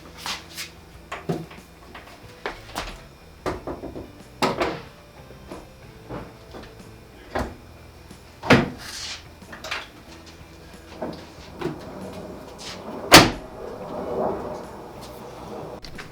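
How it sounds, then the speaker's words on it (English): Half door for a Jeep Cherokee XJ slid onto its hinges, giving a string of sharp metallic clunks and knocks with a loud bang near the end, close up and without talk. "Just grab the new door and slide it on."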